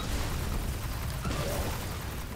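Explosions in the video game Destiny 2, muffled booms and pops layered over a steady, noisy game background, with a slightly stronger burst partway through.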